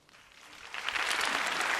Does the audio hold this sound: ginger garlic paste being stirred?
no